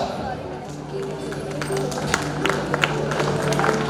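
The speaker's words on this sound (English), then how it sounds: "Give him a big round of applause." An audience at a school farewell function breaks into steady applause, a dense patter of clapping that swells slightly, with a voice speaking over it.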